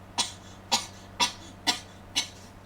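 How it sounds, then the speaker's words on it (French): Five short, sharp coughs in an even rhythm, close by, with quiet gaps between them and no talking. "Désolé, j'avais une toux."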